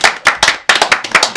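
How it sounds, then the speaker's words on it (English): A crowd claps in a quick round of applause for someone being introduced at a gathering, with sharp, dense hand claps close by and no talk over them. "a round of applause for Jason Strong"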